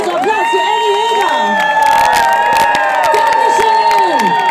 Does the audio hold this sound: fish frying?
no